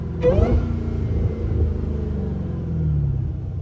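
A supercharged Dodge Hellcat rumbles loudly nearby, a brief rising whine at the start giving way to a sustained deep, throbbing engine drone that swells again toward the end.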